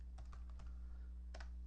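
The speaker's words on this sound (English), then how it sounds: "what happened was I typed Mike and then I tried to click off of this record" A computer keyboard typed on in a few quiet, close bursts of clicks over a steady low electrical hum, no talking.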